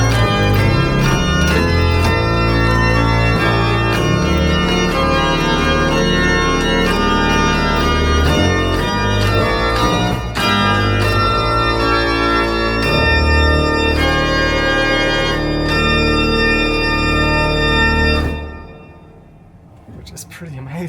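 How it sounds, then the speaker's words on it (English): The golden pipe organ of Basilica San Martino plays full tutti with the bombarde stop drawn, a loud, dense and sustained chord mass with a deep bass. The sound cuts off near the end, and the church reverberation fades away. "You can also add a bombard, boop, and it sounds like this."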